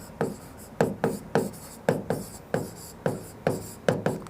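Writing on a board during a maths lesson, with close, crisp strokes repeating in a brisk, even rhythm, each a sharp tap trailing into a short scrape, with no talk.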